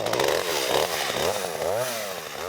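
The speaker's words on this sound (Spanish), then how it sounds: "Solo queda repasar con la motosierra pequeña las puntas de los escalerones que sobresalen de las ternas" A small chainsaw trims the protruding ends of wooden rungs on a homemade olive-picking ladder, its engine buzzing loud and close in one continuous run with slight pitch swells as it cuts.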